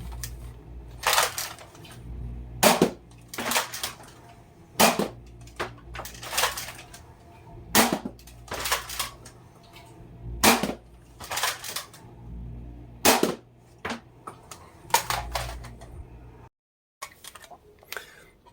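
Two dual-wielded Nerf blasters, each loaded with two half darts, fire in a rapid string of sharp snapping pops and clacks, about a dozen shots close by, with handling noise between them.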